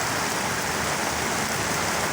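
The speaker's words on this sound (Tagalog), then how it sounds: "medyo malakas ang ulan" Heavy rain pours down in a steady, dense hiss that fills the whole short stretch, with no voices over it.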